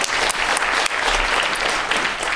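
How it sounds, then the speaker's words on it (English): A conference crowd at an annual Asian American community development gathering bursts into steady, dense applause that holds loud and even for a couple of seconds, with a few sharper claps standing out and no speech over it. "now you can applaud"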